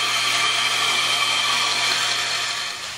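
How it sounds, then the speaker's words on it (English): A band saw hums steadily at close range, a constant whining drone with a slight dip near the end as the blade runs through a wooden board. "The bandsaw really is the closest thing to a hand tool in the power tool realm"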